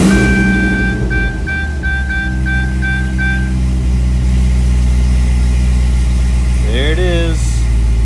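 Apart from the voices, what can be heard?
car engine cranked and idling, Corvette drift car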